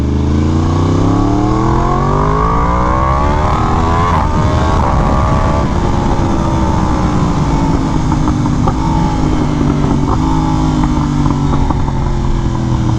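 A Yamaha R1M sport motorcycle with an aftermarket Toast exhaust revving hard, the loud engine pitch climbing steeply through several rising sweeps before settling into a sustained high roar.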